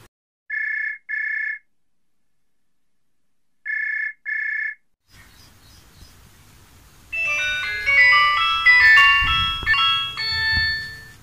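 A telephone rings in two short double bursts separated by a pause, clear and alone against silence, before music swells in and takes over; the ring comes during a call in a village comedy show.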